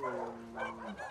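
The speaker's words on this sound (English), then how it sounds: "Oh, it's a cute puppy." A puppy in The Last of Us Part II gives soft, close whimpering yips and a short bark-like whine, continuous over about a second with a faint voice underneath.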